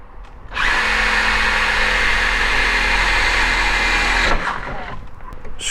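Power drill whirs steadily for about four seconds while driving a screw into a car camera mount on a Lexus, starting abruptly and cutting off, with quiet handling noise afterward.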